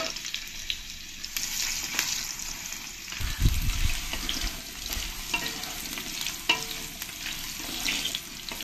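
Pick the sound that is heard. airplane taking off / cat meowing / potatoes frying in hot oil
potatoes frying in hot oil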